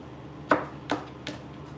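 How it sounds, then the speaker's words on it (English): A few sharp knife chops land on a cutting board in quick, uneven succession as vegetables are roughly chopped, close and moderately loud. "Roughly chopping."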